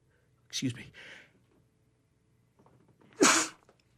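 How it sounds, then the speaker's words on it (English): One sharp sneeze bursts out close to the microphone, followed by a short breathy trail, then after a pause a second loud burst that is a spoken apology in a quiet indoor room. "had to sneeze, beg pardon."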